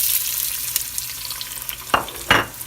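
Onions frying in a pan while spaghetti with mussels and shrimp is being cooked, giving a steady hiss with a few louder scraping stirs near the end, close by and without talk.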